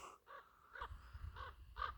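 A crow caws loudly outdoors in several harsh, spaced calls, some near and some slightly farther off, over low background rumble.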